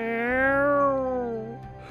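A cat gives one drawn-out meow that rises and then falls, close and clear, lasting about a second and a half and followed by faint background noise.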